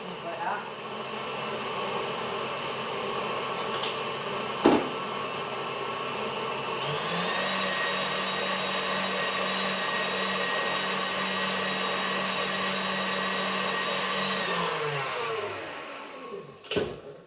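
An electric hand mixer whirs steadily as it beats egg yolks with sugar to a foamy mix for a creamy gluten-free cake. The motor drone climbs in pitch partway through, holds, then winds down, with a couple of knocks against the bowl.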